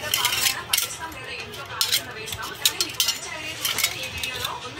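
Decorative plates from a home kitchen set clatter and clink as they are handled, with a steady run of sharp ceramic and metal knocks close by and a voice speaking faintly underneath.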